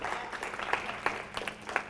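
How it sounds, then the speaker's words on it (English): Audience applause at a live speaking event, many hands clapping at a fairly quiet, distant level with a few sharper claps standing out from the steady patter. "Give another obligatory round of applause for Anthony"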